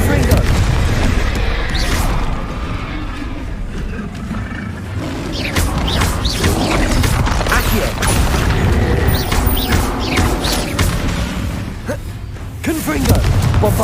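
Bombarda and Confringo spell explosions in Hogwarts Legacy combat, repeated loud booms and crashing impacts in quick succession, with a voice calling out spell names throughout.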